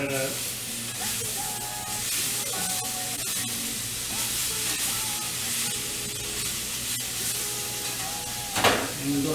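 Salmon frying in a pan with salt as it is stirred, giving a steady loud sizzle and hiss throughout, with occasional scraping and clinks from the stirring.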